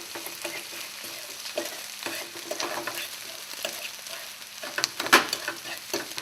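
Scrambled egg for fried rice gets stirred and broken up in a hot pan, with repeated scraping and tapping of the utensil over a light frying sizzle, ending with a few sharper clacks.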